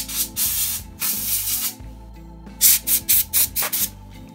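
Compressed air blasts in short repeated bursts to clean a freshly drilled drone flight controller, several longer hisses followed by a rapid series of quick puffs, close and loud.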